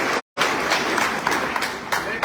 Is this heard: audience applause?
yes